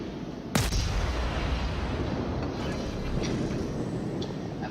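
Naval guns on the Edinburgh cruiser fire in World of Warships, a single loud booming salvo near the start and then a long rolling rumble, with fainter distant shots and battle noise behind.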